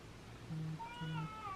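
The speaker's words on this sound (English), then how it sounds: "That's the cat from Katamari Damacy" A phone ringtone plays the cat sound from the video game Katamari Damacy: two short low tones followed by a rising, wavering meow, faint and brief against a quiet background.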